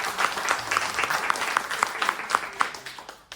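An audience at a book presentation about the book México 1977 breaks into applause, with dense clapping and a few sharp claps standing out, fading toward the end.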